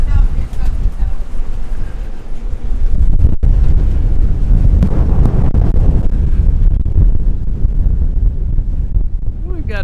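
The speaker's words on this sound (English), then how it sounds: "We've got a bit of a windy day in the Anchorage." Strong wind buffets a sailing catamaran at anchor in the Bahamas Abacos, gusting in the 20s; a loud, steady roar of wind noise fills the whole stretch, with people talking faintly underneath.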